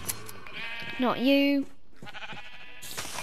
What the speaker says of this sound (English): Staring awkwardly at the sheep, asking for its wool.